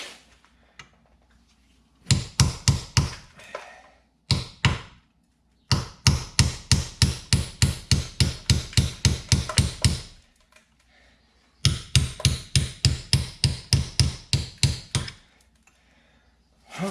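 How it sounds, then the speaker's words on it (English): Rapid metal-on-metal hammer blows on a chisel, folding over the edges of a rear axle seal on a 2005 Mercury Mariner, coming in three close, loud bursts of steady strikes separated by short pauses. "We're gonna have to grab a chisel and we'll fold those edges over a little bit and pull some of the pressure off a bit."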